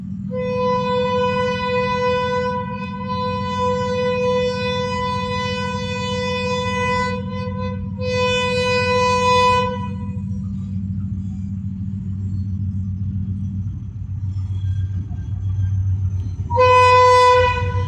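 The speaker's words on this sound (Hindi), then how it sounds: "जहानिया रेलवे स्टेशन पर शानदार विस्लिंग के साथ आ रही है।" Millat Express with an HGMU 8225 diesel locomotive of about 3000 horsepower pulls into Jahanian railway station, its loud multi-tone horn sounding in long blasts over a deep, steady engine rumble.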